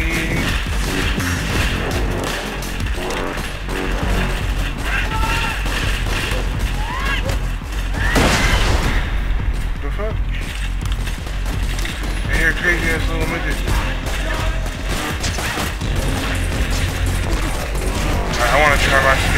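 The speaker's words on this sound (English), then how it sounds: "Oh shit, you're shooting at me!" Gunfire in Borderlands 2, a video game, with dense bursts of shots and crashing impacts running steadily throughout, and a louder burst near the middle, all mixed under ongoing speech.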